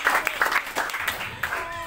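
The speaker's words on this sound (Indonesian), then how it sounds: "Tepuk tangan terbaik buat Tuhan Yesus Kristus." A short burst of clapping from a church congregation, dense and lively, with a voice briefly audible beneath it.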